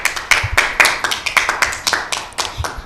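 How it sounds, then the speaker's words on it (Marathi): Enthusiastic clapping from a small group for a child named Tanishka at a Children's Day event, brisk uneven hand claps ringing close and loud for about three seconds with no talking. "वा तनिष्कासाठी जोरदार टाळ्या होऊ देत"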